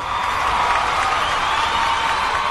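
A studio audience on a Brazilian motoring TV program gives sustained, even applause, a dense wash of clapping with faint crowd voices mixed in, continuous throughout.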